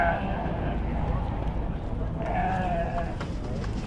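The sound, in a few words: goats bleating at a livestock market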